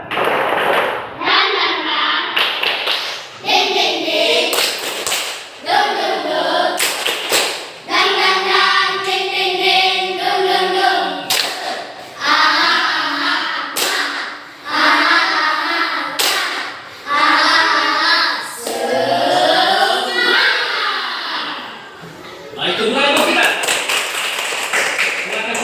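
A primary school class in an Indonesian coding lesson performs a rhythmic spirit clap, sharp patterned hand claps in bursts alternating with children chanting loudly together in unison.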